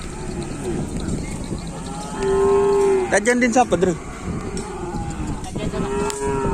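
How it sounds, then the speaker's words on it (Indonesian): Cattle, racing bulls in training for a Madurese kerapan sapi bull race in Pamekasan, moo loudly nearby, one long low call followed by a few more, with people talking in the background. "Di sebelah barat juga ada banyak sapi."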